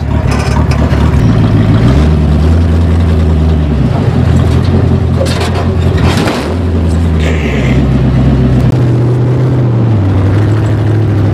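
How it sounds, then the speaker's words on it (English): Inside an old 1969 jalopy, the engine runs and rises and falls in pitch while the cabin rattles from the back, loud and close for the whole stretch with no talking. "Love the noise from the back here. Yeah, all the rattles."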